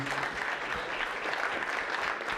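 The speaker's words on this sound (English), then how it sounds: "How about a nice round of applause for Nick," Wedding guests applaud after a toast, a steady, even patter of many hands clapping at moderate distance throughout.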